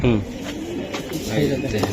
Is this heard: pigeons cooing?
yes